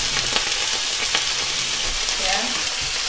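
Breakfast cooking in a pan with a little oil and added water, a steady loud sizzle and hiss that runs the whole time, with occasional stirring scrapes.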